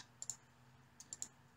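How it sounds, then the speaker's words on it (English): Short bursts of keyboard key clicks, two quick taps and then three more, faint and alone, as an IP address is typed on a computer keyboard to set up an Arduino Ethernet shield. "If I type in the IP address"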